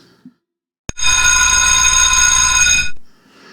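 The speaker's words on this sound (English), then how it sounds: "The sound of the final bell got the kids moving." A loud electric bell rings steadily for about two seconds, a continuous bright metallic ring that cuts off abruptly.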